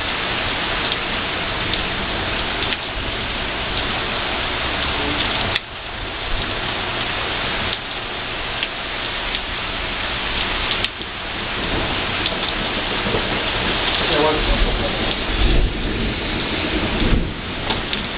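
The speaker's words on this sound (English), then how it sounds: "Mitch, this storm is going crazy" Heavy rain pours steadily during a thunderstorm in Haysi, Virginia, with sharp cracks of thunder breaking through the constant loud downpour.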